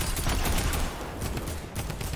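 Rapid, dense gunfire from Fortnite, continuous bursts of shots filling the whole moment at steady loudness without a break.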